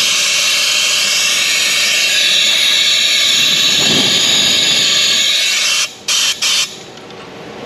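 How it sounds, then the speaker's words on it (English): Compressed air blasts through a part on a Chevy Cobalt with a loud, continuous close hiss. It cuts off abruptly near the end, followed by a few short, sharp bursts. "Air pressure. Well, it's blowing."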